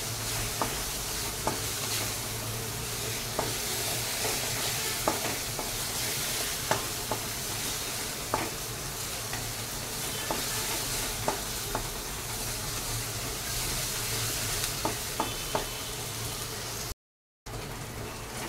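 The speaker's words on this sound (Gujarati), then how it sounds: "કાંદા બરાબર ફ્રાય કરી લેવાના છે આપણે લાલ થઈ જાય ત્યાં સુધી" Onions fry in a pan for akha bhinda nu shaak, giving a steady loud sizzle with occasional sharp taps and scrapes of a spoon stirring, close up, with no talking and a brief dropout near the end.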